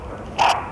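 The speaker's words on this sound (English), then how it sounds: "The dog's barking." A dog gives one short, sharp bark at moderate distance, brief and alone over a quiet background.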